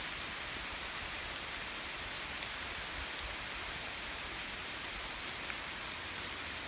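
Rain falling in a forest near old cabin ruins on Blakers Ridge, a steady, dense hiss of drops pattering on leaves and ground, even and unbroken from start to finish.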